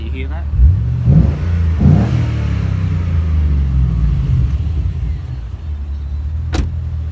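A 2007 Holden Commodore SS-V with extractors and a catback exhaust revs up twice in quick succession with a deep, throaty rise and fall, then settles back to a low idle rumble, close and loud.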